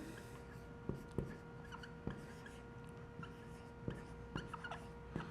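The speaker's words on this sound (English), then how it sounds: "Kind of hard to write it sideways, but that's an increase as your blood sugar goes up." Marker strokes squeak and tap against a whiteboard as a chart is drawn sideways, with several short, distinct scratches spaced across the span over a faint room hum.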